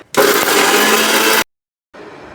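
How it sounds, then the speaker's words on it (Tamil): A kitchen mixer grinder reduces dried flowers to a fine powder: a loud, steady whirring roar for just over a second stops abruptly, and after a brief silence a quieter burst of motor whir follows. "இந்த ட்ரை ஃப்ளவர்ஸை கொஞ்சம் கொஞ்சமாக மிக்சி ஜாரில் சேர்த்து இதை நல்லா ஃபைன் பவுடராக அரைச்சி எடுத்துக்கலாம்"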